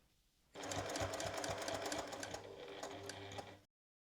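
A sewing machine runs a steady, rapid stitching rhythm for about three seconds along a jacket seam, starting abruptly after a quiet moment and stopping cleanly, close and alone.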